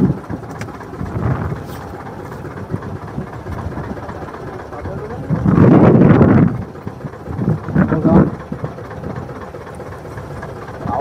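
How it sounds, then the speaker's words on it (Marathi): Strong wind buffets a fishing boat out at deep sea, a loud rushing roar that swells midway over a low engine rumble while the boat rocks, with a voice briefly in places. "वारा सुद्धा मित्रांनो बघा,"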